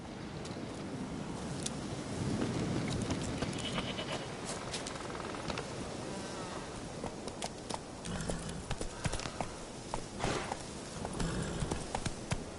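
Hooves of the horse ridden in the video game The Witcher 3 clop at a gallop, a quick rhythmic thudding that runs through most of the stretch among other in-game sounds.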